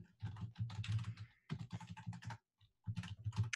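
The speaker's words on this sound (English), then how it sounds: "Someone is pounding away at their keyboard, man." Fast typing on a computer keyboard, heard as quiet clustered bursts of rapid key clicks separated by short silent gaps, fairly faint and close.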